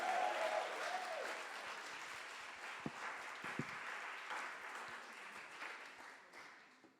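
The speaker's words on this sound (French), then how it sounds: "je demande un tonnerre d'applaudissements à Alexandre, Pablo, Grégoire et Quentin." Steady audience applause at a Paris data science demo day, a sustained wash of many hands clapping that fades toward the end.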